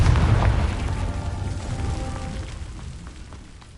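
A Confringo fire spell from Hogwarts Legacy bursts with a deep, rumbling boom that starts loud and fades out over a few seconds, heard on its own.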